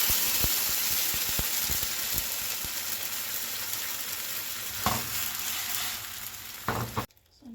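Peeled San Marzano tomatoes are stirred in a hot pan: a bright, steady sizzle with quick spoon knocks early on and a few scrapes later, before the sound abruptly drops away at the end.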